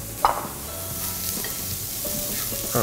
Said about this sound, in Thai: พอเราผัด ให้ผักเริ่มสุกนิดๆ